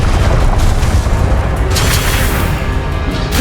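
A Confringo spell explodes in Hogwarts Legacy, a loud, deep rumbling boom that rolls on and slowly fades.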